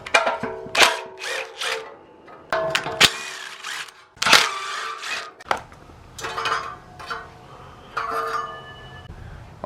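Hand tools working loose three size 10 bolts on the exhaust tip of a Can-Am Maverick X3 Turbo R, giving close, intermittent metallic scrapes and clicks in separate bursts with short pauses between them.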